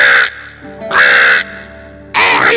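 A crow caws three times in loud, harsh bursts with short pauses between, close and clear over a quiet background.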